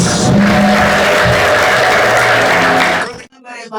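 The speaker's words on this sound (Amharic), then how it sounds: "አጨብጭቡ ለኢየሱስ።" A church congregation claps for Jesus during a prophecy service, a dense, loud wash of applause mixed with voices that cuts off abruptly near the end.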